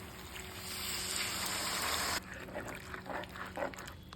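Hot water is poured into mutton curry masala in a home kitchen, a steady rushing hiss for about two seconds that cuts off into softer bubbling and sizzling.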